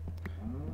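A cow moos once, briefly and faintly, in the video game Minecraft, a short low call that rises slightly in pitch and sits over a steady low hum.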